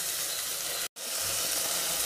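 Chopped tomatoes sizzle in a pan with onions for a seaside-style fish curry, a steady close frying hiss broken by one brief silent gap.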